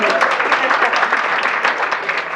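An audience of teachers at a professional development event bursts into brisk, energetic applause mixed with cheers, a dense, loud clatter of clapping that stays strong before easing slightly at the end.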